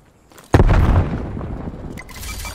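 A frag grenade goes off in a multiplayer shooter match with a single loud, close boom that rolls into a long rumbling decay, faint game sounds trailing after.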